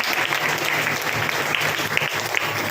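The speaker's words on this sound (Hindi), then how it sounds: "इन सिस्टरों के लिए जोरदार ताली हो जाए" Loud applause rolls through a church congregation at a Hindi-speaking anniversary service, a thick continuous clatter of many hands that holds steady throughout.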